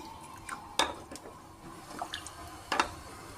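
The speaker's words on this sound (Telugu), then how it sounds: "చల్లటి పాలు ఇది కూడా అందులో వేస్తాము" Cold milk poured into a pot for almond milk with custard powder, giving a few soft splashes and trickles over a low kitchen background, close by.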